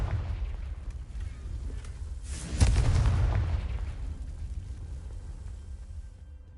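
Confringo fire spell blast in the Hogwarts Legacy video game: a deep, loud explosive boom bursting midway through, then a long rumbling decay under a continuous game ambience.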